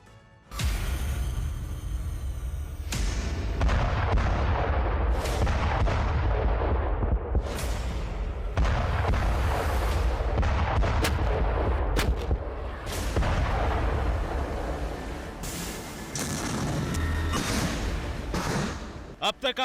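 Heavy Russian artillery bombardment in Ukraine, a dense run of booming blasts and gunfire-like cracks that stays loud and nearly continuous, with a few sharp peaks standing out over a constant rumbling background.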